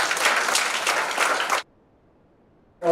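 Audience applause for a chief guest at a foundation's annual day event, dense clapping for about a second and a half that stops abruptly, then silence.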